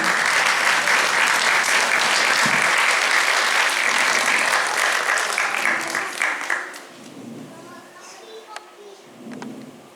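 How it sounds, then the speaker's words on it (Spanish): Audience applause at a youth intergenerational theatre event, a dense sustained burst of clapping that fades out after several seconds, followed by quieter stray sounds and a voice. "Aplausos al joven porque es quien escribe la historia."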